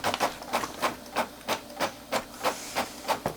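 An Epson ET15000 inkjet printer prints a test page, its printhead carriage sweeping back and forth in about ten evenly spaced whirring passes, close and clear, with no talking.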